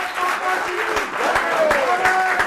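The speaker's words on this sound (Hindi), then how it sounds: "एक बार जोरदार तालियां बजाइए इनके लिए।" Audience applause for a poet at a Holi poetry gathering (kavi sammelan), steady clapping filling the clip with voices and cheering over it.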